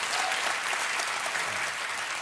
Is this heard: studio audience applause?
yes